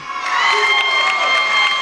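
A wrestling crowd cheers and shouts for a short burst, with high, bright voices and whoops rising together over a busy arena din.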